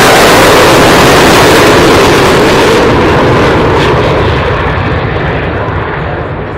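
An airplane at an air show roars loudly and close as it lifts off the runway, a dense, overwhelming engine blast that slowly eases as it climbs away.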